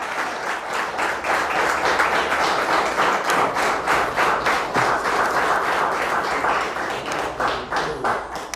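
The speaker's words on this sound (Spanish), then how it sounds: "Denle un aplauso a aquel que vive." Sustained applause from a church congregation during a service, dense steady clapping filling the room from start to finish with no voices over it.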